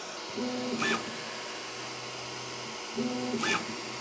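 Creality Ender 3 V3 KE 3D printer running automatic bed leveling, giving two matching bursts of motor whine with a short high-pitched zip in each, about three seconds apart, over a steady low mechanical hum.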